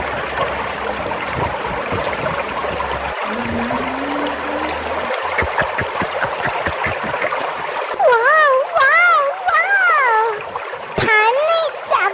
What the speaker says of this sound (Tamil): குகைக்குள்ள குற்றால அருவி மாதிரி தண்ணி ஊத்திட்டு இருக்குது